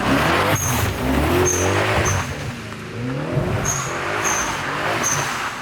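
A Maserati 3200 GT under renovation is revved repeatedly after being restarted, its engine note swelling and falling in several loud, close blips with a faint high whine over the top.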